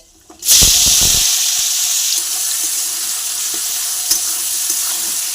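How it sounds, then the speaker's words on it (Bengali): Chopped onions are tipped into hot oil already holding meat, setting off a loud, sudden sizzle that settles into a steady crackling fry close by, with a few clinks of stirring. "পেঁয়াজ কুচিগুলো এর মধ্যে দিয়ে দেবো"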